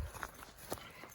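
Quick hoof thuds of several goats running past, a brief scattered clatter over soft background noise.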